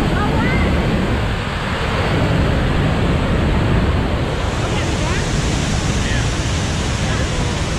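Water rushes heavily at Tegenungan Waterfall in Bali, a dense, unbroken roar that stays loud and close throughout with no pauses.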